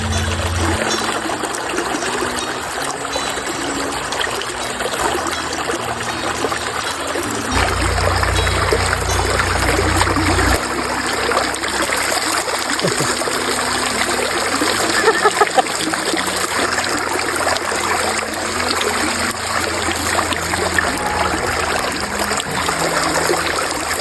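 Clear water gushes steadily from an adjustable outlet into a bathing pool being built beside a creek, a loud continuous splashing stream that swells heavier partway through and keeps flowing without pause.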